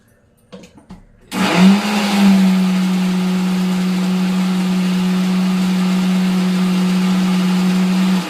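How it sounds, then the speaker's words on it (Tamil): A blender grinding chutney switches on after a few faint clicks and grinds with a steady, high whirring drone that holds at an even pitch to the end. "அம்மா சட்னி அரைச்சின்னு வந்துடுறேன்"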